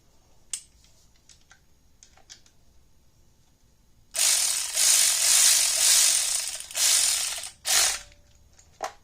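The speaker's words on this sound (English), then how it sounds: "Get that bolt started." A ratchet tightens a bolt on engine accessory brackets, first a few faint clicks, then sustained loud, close rapid ratcheting in several runs with brief gaps.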